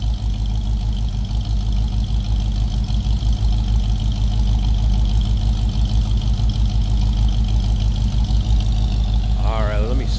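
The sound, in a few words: 1965 Ford Mustang 289 four-barrel V8 engine idling rumble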